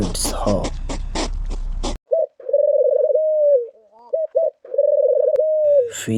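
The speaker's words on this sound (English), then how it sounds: "pigeon" A pigeon coos in a soft, steady, throaty warble, sustained in two long phrases with a short break between them, heard close and clear right after a brief spoken word.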